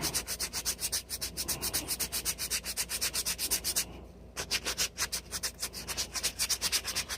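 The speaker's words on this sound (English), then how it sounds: "it's going to take the sawdust from the sanding paper, and it's going to work it back down inside the crack" Sandpaper rubs rhythmically along a wooden hatchet handle in quick, even back-and-forth strokes, close and fairly quiet, with one brief pause midway before the strokes resume.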